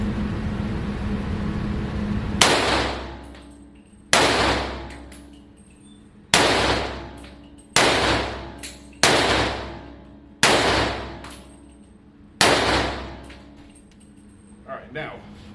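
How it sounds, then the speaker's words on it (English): Gun fired repeatedly at a target outdoors: seven loud, sharp shots spaced a second or two apart, each one followed by a ringing decay. "And then I'm going to set this thing out and shoot it again."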